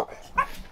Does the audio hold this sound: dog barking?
yes